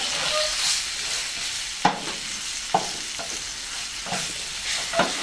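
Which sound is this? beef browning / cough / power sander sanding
beef browning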